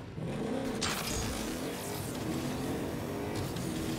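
Car engine in the video game Agents of Mayhem: a steady, loud motor drone with rising rumble, continuous throughout with a brief brighter whoosh early on.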